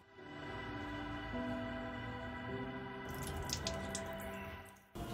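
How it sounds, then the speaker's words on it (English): Water rushes through an opened solenoid valve in a small experimental setup, a steady close gush with shifting tones and a brief spattering burst near the end before it cuts off. "the valve opens and the water starts flowing."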